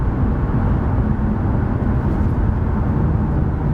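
A 2016 BMW i8 hybrid sports car with an 8-speed gearbox accelerates smoothly, giving a steady, loud, even engine and road roar heard from inside the cabin without a break.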